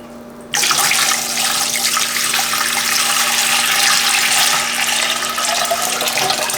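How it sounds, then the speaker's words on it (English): About three quarts of plain water gush steadily into a pressure canner in a home kitchen, a loud, continuous close-up pour that starts abruptly and runs without a break, no voices over it. "we are going to put in just regular 3 quarts of water"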